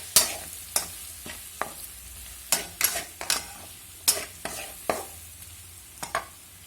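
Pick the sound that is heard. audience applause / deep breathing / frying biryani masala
frying biryani masala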